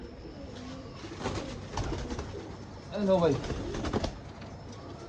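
Pigeons coo softly in bursts, a low throaty burble rising midway, with a brief spoken greeting nearby.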